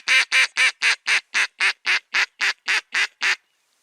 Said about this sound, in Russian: Интересный манок. Хорошее у него такое звучание, такое хрипловатое, интересное.